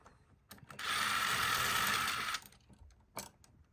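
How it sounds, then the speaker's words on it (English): A screwdriver backs screws out of an electrical outlet: one steady mechanical whir of about a second and a half, with a few faint clicks and handling sounds before and after. "Just take these screws out right here for right now."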